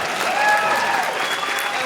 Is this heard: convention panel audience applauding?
yes